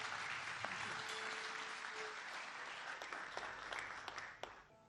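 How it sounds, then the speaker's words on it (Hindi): A concert audience at a tribute concert in Mauritius breaks into steady, sustained applause, dense clapping filling the room for several seconds before easing off at the end. "एक बार जोरदार तालियां वर्षा जी के लिए।"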